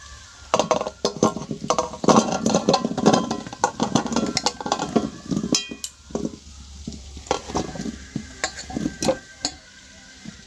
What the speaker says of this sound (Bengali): এইগুলো এবার সেদ্ধ করতে বসিয়ে দেবো জল দিয়ে